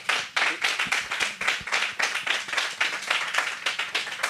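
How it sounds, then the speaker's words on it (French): A conference audience applauds a speaker with close, dense clapping from a modest crowd. The clapping holds steady throughout and keeps an uneven, rippling rhythm. "On peut vous applaudir encore une fois, effectivement."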